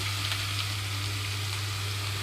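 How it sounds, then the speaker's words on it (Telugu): Brinjal pieces with turmeric fry in a pan over medium flame, a steady close crackling sizzle with a low hum beneath, continuous and alone. "ఇప్పుడు స్టవ్ని మీడియం ఫ్లేమ్లోకి టర్న్ చేసి వంకాయ ముక్కలన్నీ ఇందులోకి వేస్తున్నాను"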